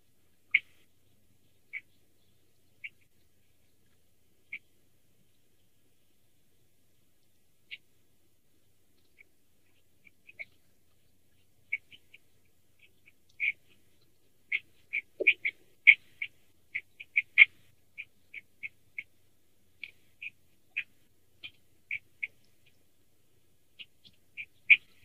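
Starlings perched on a ranch railing give short, sharp chirps and squeaks, sparse at first and then quicker and denser, fairly close against an otherwise silent background.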